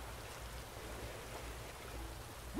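Steady rain falling in the video game Animal Crossing: New Horizons, a constant soft hiss of drops with a low rumble underneath, even and unbroken throughout, with a short rising tone right at the end.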